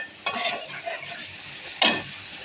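Pre-fried potatoes tipped into a cooked-down spice paste in a pan: two sharp scraping stirs about a second and a half apart, each with a burst of sizzle that quickly settles.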